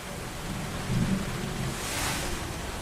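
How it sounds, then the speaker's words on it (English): Soft rain hisses steadily while a brief, muffled rumble of thunder from a nearby Florida storm rolls in the distance. "Could hear some brief, very brief claps of thunder."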